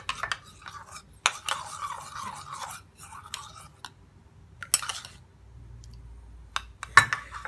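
Aloe vera gel mixed with rose water is stirred in a small container, making soft wet scraping and swishing with sharp clinks of the utensil against the side and quiet gaps between strokes.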